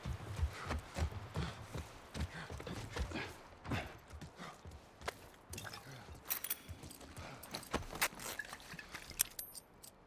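Horse hooves clip-clop in an irregular, close rhythm in The Last of Us Part I, with a faint jingle of tack over quiet ambience and no talk.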